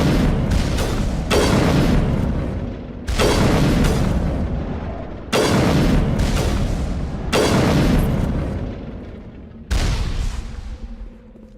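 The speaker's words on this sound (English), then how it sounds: "This is how hard my sniper rifle's hitting." Sniper rifle shots in Mass Effect 1 during a fight against the Geth: five or six heavy, booming shots spaced about two seconds apart, each loud and close with a long decaying tail.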